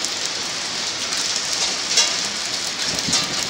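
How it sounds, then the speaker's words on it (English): Hail falling outdoors in spring, ice pellets pattering steadily on surfaces as a dense, continuous rain-like hiss with a few slightly louder impacts, no voices. "it's hailing here"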